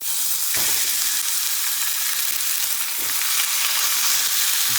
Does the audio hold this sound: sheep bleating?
no